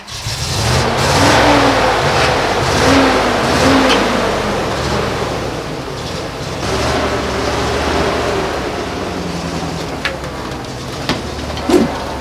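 A nine-ton, six-wheel-drive Russian truck with a diesel V8 runs loudly and steadily nearby, its deep rumble swelling and easing as it revs, with a couple of brief knocks near the end.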